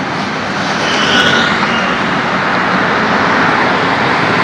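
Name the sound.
airplane flying overhead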